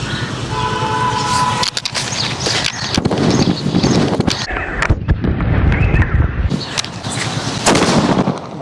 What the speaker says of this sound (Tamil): புள்ளி வெடி பாருங்க